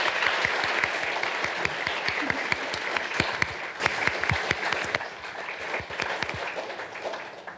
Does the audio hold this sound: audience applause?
yes